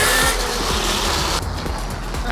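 A modified Funbike MXR1500 electric motorbike with a 5000-watt setup pulls away at full throttle, giving a loud, continuous broadband whir and rushing roar that holds steady throughout, with no talking.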